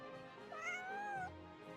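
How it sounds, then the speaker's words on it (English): Cat meowing in the video game Genshin Impact, a single clear drawn-out meow that rises and falls, heard alone with faint game ambience behind it. "Aw, kitty."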